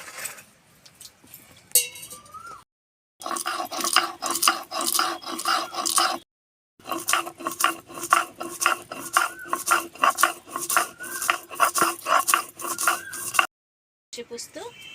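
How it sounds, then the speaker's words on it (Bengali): A knife slices tender young okra on a board in a quick, even run of crisp close taps and clicks, broken by two brief silent cuts. "আমি ঢ্যাঁড়সগুলো কেটে দিচ্ছি, খুব কচি ঢ্যাঁড়সগুলো"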